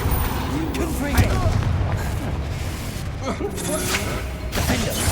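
A Confringo explosive spell blast in a Harry Potter video game: a sharp booming burst with other spell impacts and rumbling effects, heard alongside game voices.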